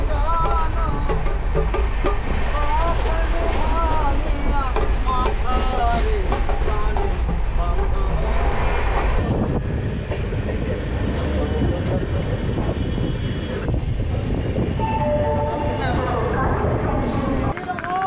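The Poorva Express rolls toward Barddhaman Junction with a loud, continuous rumble and clatter of rail cars that eases partway through, while people talk over it.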